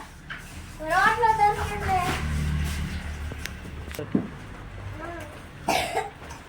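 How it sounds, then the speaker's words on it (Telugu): A person with a cold from the rain gives a short, sharp cough, heard close amid conversation and some background vehicle noise. "దగ్గు వస్తుందయ్యా"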